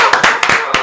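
A few hands clap close by in an indoor room, roughly four or five loud, sharp claps in an uneven rhythm, brief and up front.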